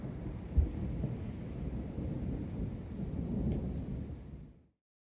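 A thunderstorm over Seine-Maritime and the Somme in France brings rolling thunder over steady rain. The rumble holds for several seconds, swells slightly, then fades away to silence.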